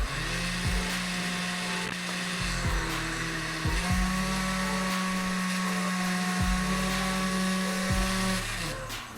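A blender whirs loudly, purees potatoes with heavy cream, its pitch dropping and rising in several surges as the load shifts, with no talking.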